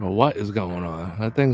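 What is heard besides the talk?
No everyday noises stand out.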